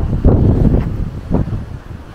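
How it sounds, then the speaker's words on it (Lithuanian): Strong gusting wind at Bolonia beach in Andalusia buffets the microphone in loud, rumbling rushes, swelling twice and easing between gusts. "labai didelis vėjas"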